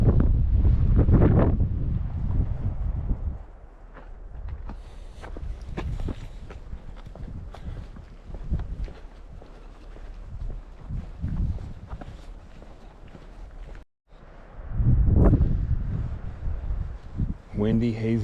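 Gusty wind at the Grand Canyon on a hazy day buffets the microphone in low rumbling bursts, loudest at the start and near the end, with people talking intermittently over it.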